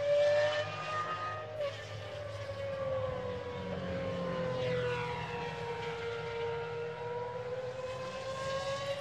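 Loud GT1 racing car engines scream past at the Barcelona circuit, their high whine rising and falling in pitch as cars sweep by, with a steady roar underneath throughout.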